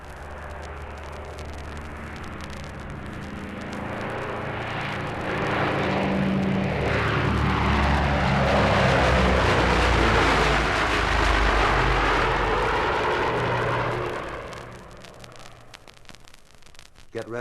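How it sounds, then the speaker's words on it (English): A Douglas DC-7 propeller airliner passes overhead, its engine drone swelling from a distance to a loud, broad roar at its closest, then fading away as it recedes. "Here is the surging power of a DC-7,"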